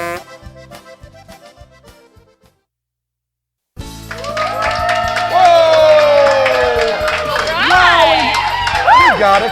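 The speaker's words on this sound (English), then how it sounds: "Got a crowd, a real crowd." A live studio crowd at the season premiere of a downtown Houston talk show cheers and applauds. A music sting fades and drops to silence, then loud whoops, shouts and clapping burst in and stay strong to the end.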